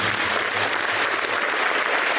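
An audience at a Syro-Malabar Church youth gathering in Germany claps in a dense, even burst of applause lasting about two seconds.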